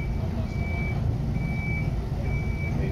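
A truck's reversing alarm beeps steadily about once a second while it is maneuvered, a thin repeating tone over a constant low engine rumble.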